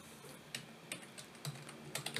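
Typing by hand on a computer keyboard while entering a download address in a Linux terminal: scattered clicky keystrokes in small bursts, fairly quiet and close, with no talking.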